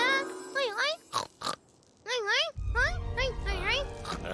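A cartoon piglet in a Telugu animated movie squeals and oinks in a run of high, wavering, voiced calls, several short bursts with pauses, then continues over a low background rumble.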